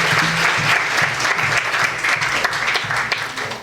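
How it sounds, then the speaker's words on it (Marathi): An audience at a birthday felicitation ceremony for a journalist claps in loud, sustained applause that fills the whole stretch before it begins to taper at the close. "त्यांच्या वाढदिवसानिमित्त परत एकदा टाळ्या."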